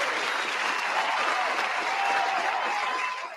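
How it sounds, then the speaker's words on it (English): Steady, dense crowd applause in a continuous wash of many hands, evenly loud throughout and fading slightly at the close. "So I want to give a round of applause to Google"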